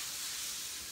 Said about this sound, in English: You hear that sweet sizzle.